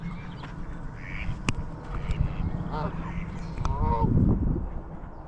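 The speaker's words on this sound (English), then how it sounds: "So these Canadian geese are noisy, always trumpeting" Canada geese honk several times in short, nasal bursts over a noisy outdoor background at a lake, with voices nearby.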